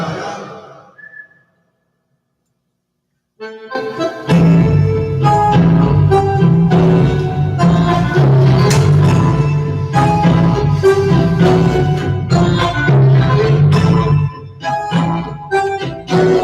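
A tune played live: a brief soft tone, then a pause before dense, loud ensemble music swells in and carries on with a steady, full texture and sustained melodic lines.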